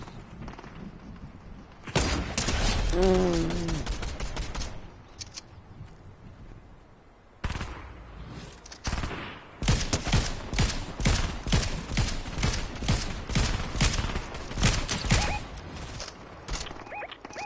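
Gunfire from a weapon in Fortnite: a short burst, then a pause, then long stretches of rapid repeated shots with sharp thuds and mechanical clanks, loud and up front.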